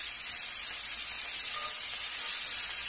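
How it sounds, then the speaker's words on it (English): Steady, loud sizzling of pork chops frying in a hot cast iron pan, a continuous bright hiss with no pauses. "You want to hear that nice sizzle."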